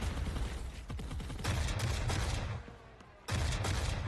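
Gunfire in the video game The Forever Winter, including a shotgun, comes as bursts of shots and rapid fusillades with a quieter gap before a final loud burst.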